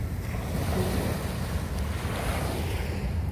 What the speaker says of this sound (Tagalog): Tahimik, maririnig mo lang ang hampas ng alon.